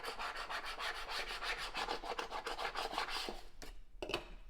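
A plastic scraper is dragged back and forth over a Cricut cutting mat to lift leftover material, making quick repeated rasping strokes that stay close and steady, then a couple of slower separate scrapes at the end.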